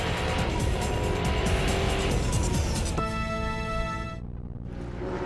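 GT race cars of the 2003 Speed World Challenge GT Championship, including Audis and Vipers, roaring at Mazda Raceway Laguna Seca: loud, continuous engine drone with tire squeal, a sharp rising engine whine near the end, then fading slightly.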